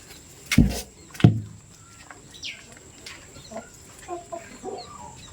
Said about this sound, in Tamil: இந்த கோழியும் சேவலும் கிரிராஜா வகையை சேர்ந்ததுங்க